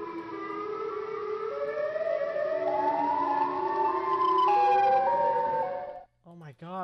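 Loud, overlapping wailing sirens from the Siren Head mob in a video game mod, rising and falling tones layered together, ending abruptly before a brief voice.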